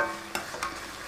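A spoon stirs salt into a hot frying oil mixture for a parotta dish, with two quick scraping strokes over a soft, steady sizzle; no one speaks.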